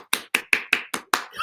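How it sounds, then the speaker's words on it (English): A live Google Meet class applauds, six sharp hand-clap-like hits in an even rhythm, close and clear, with a softer sound trailing at the end. "let me do a round of applause for"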